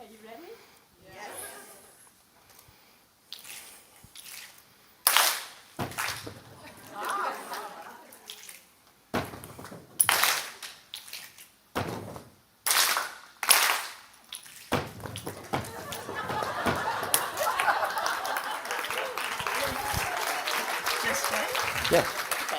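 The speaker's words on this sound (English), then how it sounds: "The invitation to you is to mix up the clapping and the stomping and the clicking" In a room at a women's leadership forum, people make a body-percussion rhythm of loud, spaced claps and stomps with some clicks. It then turns into busier, overlapping group clapping, with voices and chuckling heard throughout.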